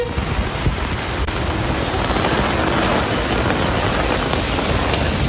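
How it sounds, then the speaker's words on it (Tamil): Heavy rain pours steadily over villages around Tiruvannamalai, a dense, even hiss of falling water that stays loud and unbroken throughout, with no voices. "திருவண்ணாமலை மற்றும் அதனை சுற்றி இருக்கக்கூடிய கிராமங்களில் கனமழை கொட்டி தீர்த்தது."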